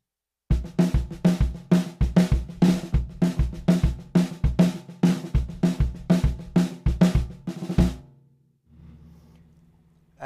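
Drum kit groove in a New Orleans style: a syncopated snare figure layered over bass drum kicks tracing a 3-2 clave, played crisply and steadily for about eight seconds before stopping abruptly into a quiet room.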